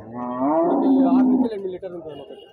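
A low, drawn-out cow moo rises and holds for about a second, then fades into quieter murmuring and background noise, at a weekly cattle market in Husnabad, Siddipet.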